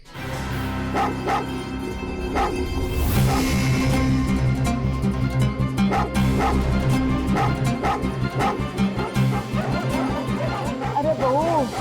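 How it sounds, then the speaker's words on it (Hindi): A dog barks repeatedly and loudly close by, mixing deep woofs with higher yips and whimpers in a rapid series over a steady background. "इस कुत्ते का क्या करे कुछ समझ नहीं आ रहा मेरे को।"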